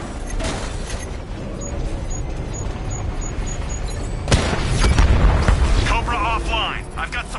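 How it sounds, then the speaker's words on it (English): Missile barrage explosions hit a tank in the Batman: Arkham Knight video game, a heavy boom rising over a steady background rumble, with voices speaking over it. "I can hit it from long range with a missile barrage"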